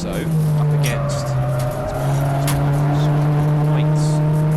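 A Citroen Saxo and a Mini race at Silverstone in a club-level touring car event, their engines holding a steady, loud sustained drone with brief sharp transients on top, continuous throughout.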